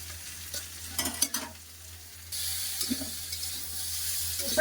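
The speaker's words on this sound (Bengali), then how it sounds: "মাংসটা চাপা দেবো না, এমনি এর ভাবে ভেজে নেবো।" Meat fries in a pan. Quiet clatter and stirring come first, then a bright, steady sizzle starts abruptly halfway through and carries on at a fairly soft, even level, with no voices.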